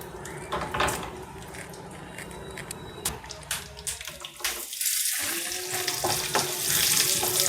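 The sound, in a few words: dry coconut, cashews and raisins frying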